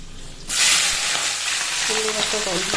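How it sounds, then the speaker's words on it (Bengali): Onions tipped into hot oil with cinnamon, cloves, mace and cardamom burst into a loud, broad sizzle that holds steady, with faint clinks of a utensil in the pan. "এখন আমি পেঁয়াজ দিয়ে দেবো পেঁয়াজ দিয়ে দিচ্ছি"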